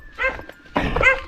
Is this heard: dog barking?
yes